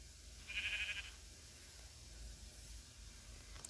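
A single short Minecraft sheep bleat rises briefly near the start, then fades into a quiet background with a faint low rumble.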